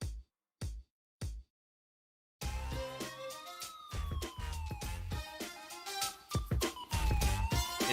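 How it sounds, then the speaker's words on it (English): Police sirens wail loudly and continuously with rising and falling sweeping tones over a dense, busy background, after three short thumps separated by silence at the start. "you can hear the sirens wailing already"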